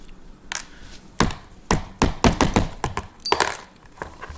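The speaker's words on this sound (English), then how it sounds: "Firing pin drops out." A firing pin and other small parts dropping out of an AR-15 rifle during cleaning: a quick series of hard metallic clicks and knocks, close and distinct, with no talking.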